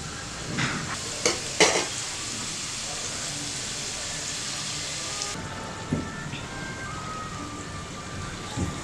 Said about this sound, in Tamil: இப்போ சமோசாலாம் ஃப்ரை பண்ணிக்கலாம்.